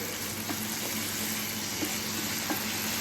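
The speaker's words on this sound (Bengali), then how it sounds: "এখানে আমি আলুটা ভাজা স্টার্ট করে দিয়েছি" Potatoes frying in oil on an induction cooker, a steady soft sizzle with faint occasional taps and stirring clicks, fairly quiet and even throughout.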